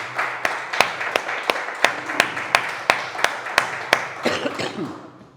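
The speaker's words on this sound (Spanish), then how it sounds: "Pues darle un fuerte aplauso a Cristo Jesús." Congregation clapping at a Spanish-language church service, sharp, evenly spaced claps in a steady rhythmic beat, fairly close and loud, thinning out toward the end.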